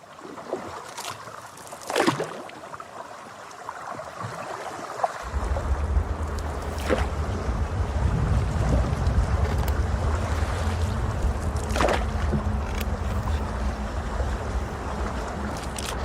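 Boats on the Danube, a steady low rumble of engine and water with wind noise rising after a quiet opening, continuous and fairly close, no voices.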